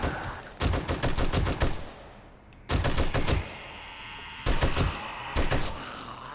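In 7 Days To Die, loud close automatic gunfire rips out in four separate bursts, each a tight rhythmic string of shots, with short quiet gaps between them.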